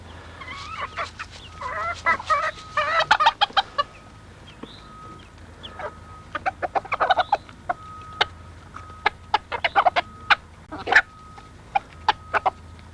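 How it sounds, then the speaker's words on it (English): Chickens clucking with a rooster's repeated short calls summoning hens to food, a busy flurry of clucks early then scattered sharp calls and clucks, fairly close over a steady low background hum. "He'll always make that same little noise to let the hens know he's found food."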